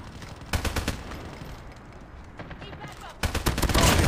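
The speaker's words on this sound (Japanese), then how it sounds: "狙いバンバンバンバン撃ってるけど" Rapid automatic bursts from a Man-O-War assault rifle in the mobile shooter CoD Mobile, with a loud sustained burst, a shorter quieter spurt, then another heavy burst, under a voice talking.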